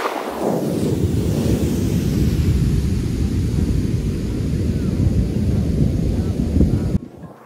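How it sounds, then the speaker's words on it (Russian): A big ocean wave crashes and roars close by on an African coast, a broad continuous rush of surf that holds for several seconds before cutting off abruptly. "Волны здесь сумасшедшие, друзья."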